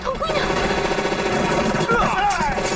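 Rapid gunfire rattles through a kung fu movie battle scene against Japanese soldiers, dense and loud, mixed with music and shouting voices.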